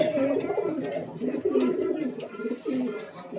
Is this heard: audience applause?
no